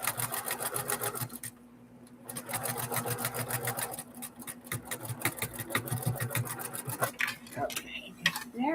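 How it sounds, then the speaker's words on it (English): Sewing machine stitching quilt pieces together, rapid rhythmic needle clatter in bursts with a brief pause near the start, close and loud, with a steady motor hum underneath. "now I start sewing them together"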